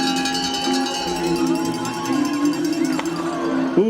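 Spectators at the Harris Hill ski jump ringing cowbells and cheering for an Austrian ski jumper, a sustained metallic clanging over crowd noise, with a few louder swells near the end.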